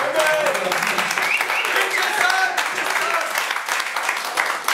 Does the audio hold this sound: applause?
yes